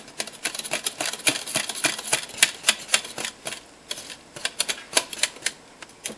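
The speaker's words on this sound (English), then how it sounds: "Then you're just going to whisk it together until it's nice and properly mixed." A whisk rattles quickly against a pot while instant mashed potatoes are mixed, a dense run of sharp metallic clicks and taps that continues without pause, close and moderately loud.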